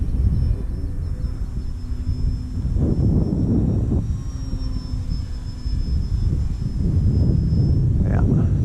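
An E-flite Valiant RC plane flies in gusty wind, its faint, steady high motor whine running the whole time beneath heavy, rumbling wind buffeting on the microphone.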